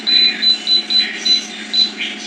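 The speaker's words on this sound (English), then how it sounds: "This is my second day using this air fryer, but I can't figure out why it non-stop beeps and the light flashes on and off." A Gevi GETOE725-U air fryer toaster oven combo beeps nonstop in short, high, piercing tones, several quick pulses in uneven bursts, loud and close, with no talking.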